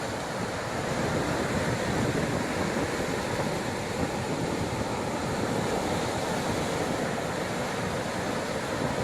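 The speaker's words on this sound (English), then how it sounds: "Waves are coming in, there they go" Ocean waves roll in on a crab-dotted beach as a constant broadband wash of surf, heavy with wind rumbling against the microphone, steady and loud throughout with no voices.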